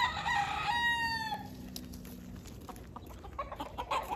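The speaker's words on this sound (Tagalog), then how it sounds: "Ang daming manok." Native chickens in a rural home yard: a rooster crows clearly at the start, then hens cluck softly and intermittently in the background.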